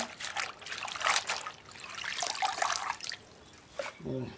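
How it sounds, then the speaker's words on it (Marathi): Water from freshly washed cowpea greens drains through a steel mesh strainer in soft, faint trickles and drips that come in uneven bursts. "हे बघा याच्यामध्ये आता काढते सर्व भाजी मी, म्हणजे पाणी सर्व निघून जाईल ना."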